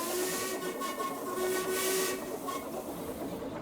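A steam locomotive's whistle sounds a sustained, hissy tone with steam roaring around it, loud and continuous over the whole stretch, with no voices.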